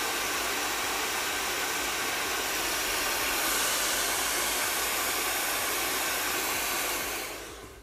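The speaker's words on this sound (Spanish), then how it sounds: "El secador." Hair dryer blowing a steady, loud broadband whoosh close by while drying eyebrow cover-up makeup, running continuously and then cutting off at the very end.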